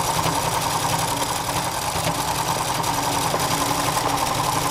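A sewing machine stitches a fabric princess crown for a patchwork carnival costume, a fast, steady mechanical whirring with a rapid needle clatter, close and continuous throughout.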